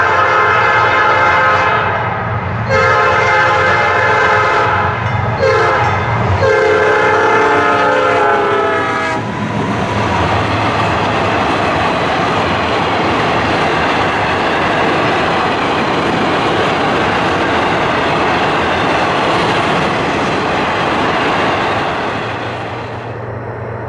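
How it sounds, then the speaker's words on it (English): A freight train of empty ore jennies passes close by: a loud horn blast with layered tones sounds first, then a long, steady roar and rattle of the rolling cars that fades slightly at the end. "the wild racket of the empty jennies is unmistakable once the head end passes by"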